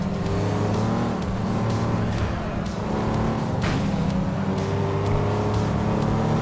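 A racing car's turbocharged engine roars in the FlatOut video game, a loud, steady, close engine drone lasting the whole stretch, with a brief surge near the middle and no talking.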